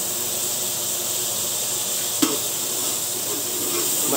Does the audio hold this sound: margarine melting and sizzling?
yes